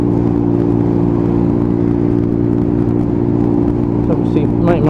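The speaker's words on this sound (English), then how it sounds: "you can just hear that exhaust can just working its way away" Royal Alloy GP125 scooter exhaust while riding on a long road trip, a steady loud engine drone mixed with wind rush, constant throughout with slight rise near the end.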